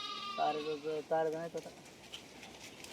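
Sheep in a flock bleating at pasture in the Konkan countryside, several clear, wavering close bleats one after another, followed by quieter background noise.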